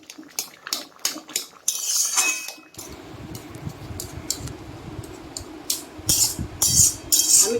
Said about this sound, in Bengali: আমি খুন্তি করে করে যতটা পারবো আমি এটা একটু মোলাম করার চেষ্টা করব।